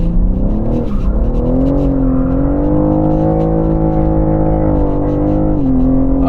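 A BMW M3 Competition driven hard and sideways, its engine holding a loud, sustained high-rev drone with pitch rising and dipping through the slide, recorded close from inside the car.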